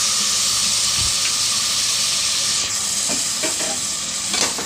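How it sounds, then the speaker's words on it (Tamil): Half a kilo of mutton sizzles loudly in a pan of sautéed tomatoes for seeraga samba biryani, a steady close frying hiss with a few faint stirring scrapes. "இப்போ நான் எடுத்துருக்க 1/2 kg மட்டன் வந்து அதில் போட்டுக்கலாம்."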